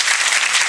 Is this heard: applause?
yes